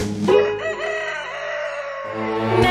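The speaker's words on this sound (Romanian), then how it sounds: "Merge cocoșelul prin grădină." A cartoon rooster from a Romanian children's animated song lets out a loud, drawn-out crow close up, with a second crow starting at the very end.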